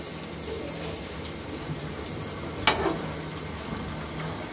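A pressure-cooked curry is stir-fried in a pan to dry off its water, giving a soft, steady sizzle with one sharp scrape of a utensil partway through.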